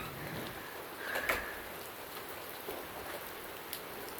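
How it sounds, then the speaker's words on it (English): Heavy rain pours steadily during a thunderstorm, a dense continuous hiss of drops hitting surfaces close by, with no voices and only a brief louder burst partway through. "Oh, massive more rain now."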